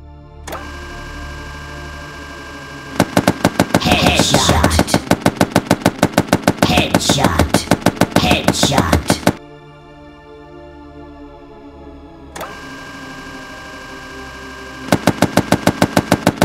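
Rapid automatic gunfire from a zombie-shooting video game, loud sustained bursts of evenly spaced shots in several long volleys separated by a droning background hum, with no talk.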